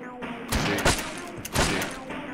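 Shotgun blasts in the video game Shotgun Mother, two loud booming shots about a second apart with a faint voice underneath.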